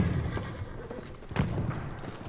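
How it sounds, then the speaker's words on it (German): A horse in Battlefield 1 gallops with faint clip-clop hoofbeats and a brief whinny partway through, quiet and somewhat distant. "Ein Pferdchen gehört"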